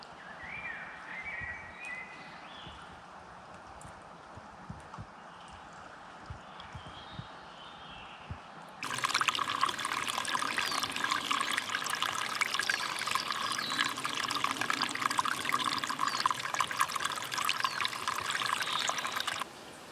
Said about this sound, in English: that sort of sound of running water it's unbelievably calming